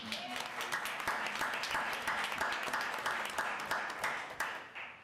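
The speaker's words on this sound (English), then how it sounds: "You can clap." An audience at a Douglas County board meeting applauds steadily for several seconds, dense clapping from many hands at a moderate distance, fading slightly at the end.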